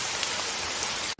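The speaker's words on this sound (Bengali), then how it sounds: "এই বৃষ্টির মধ্যে কি কষ্ট" Steady rain pours down in a dense, even hiss close by, continuing without pause until a brief drop near the end.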